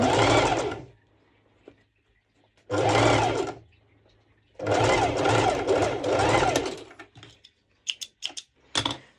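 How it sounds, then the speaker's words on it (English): Sewing machine running a straight stitch along the side of a mesh halter-neck top, in three distinct bursts of steady rapid clatter separated by pauses, followed by a few short clicks and taps. "I'm going to do a straight stitch on the side"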